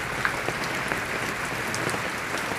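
Steady rain falls outdoors, a continuous close hiss of drops with a few faint louder taps scattered through it, no voices.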